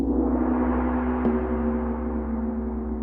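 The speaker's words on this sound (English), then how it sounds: "Listen, I will tap this crystal." A single soft tap on a crystal rings into a sustained low tone that hums on steadily and fades slowly, quiet and alone.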